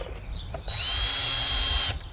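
A power drill runs steadily for just over a second, driving a screw into a wooden dragon fruit trellis top, with a few faint handling clicks before it starts and a brief stop after.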